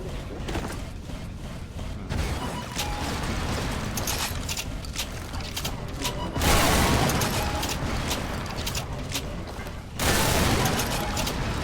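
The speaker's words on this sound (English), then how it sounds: "off in the distance, you can still hear gunfire" Dense, continuous crackle of distant gunfire and rumbling booms in a video game, with bursts swelling louder at moments, like a sustained battle raging at some distance.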